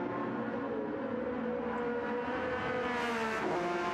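A sim-racing race car, Porsche Cup or GR3 class, on a flying qualifying lap at Laguna Seca: a steady, loud engine drone with rising and falling pitch through gear changes, running continuously with no voices.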